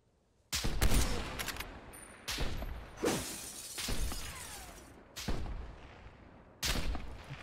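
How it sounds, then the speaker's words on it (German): Gunfire from a video game sniper duel, made up of five sharp, loud shots spaced irregularly, each one ringing out and decaying before the next. "Da muss ich meine Munition verschießen."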